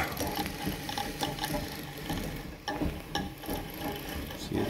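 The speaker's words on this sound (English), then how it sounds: "See, it's winding nice and evenly across there." A Singer 306K treadle sewing machine winds a bobbin, making a fast mechanical ticking and whirring with small clicks and gear chatter, steady and close.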